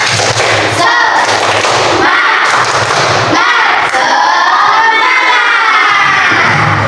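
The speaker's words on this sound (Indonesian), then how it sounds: "Yuk, satu kali lagi tepuk semangat." Schoolchildren in a classroom do a rhythmic spirit clap, a loud group of young voices shouting and clapping in bursts with short pauses between.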